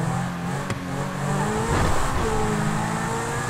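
A car in the video game GTA Online pulls away with a steady engine drone that revs up slightly midway, loud and continuous throughout with no voices.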